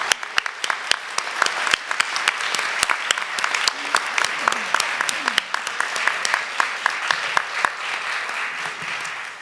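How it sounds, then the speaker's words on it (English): Audience at a college sonography program pinning ceremony applauds the graduates, with dense, steady clapping from many hands filling the room at moderate distance and a faint voice briefly underneath. "please give them a big round of applause"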